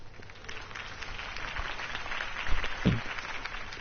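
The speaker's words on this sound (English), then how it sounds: "could have heard that applause" Crowd applause from a Batman Telltale video game rally scene, a steady wash of clapping that swells slightly toward the end with a sharp thump near the close.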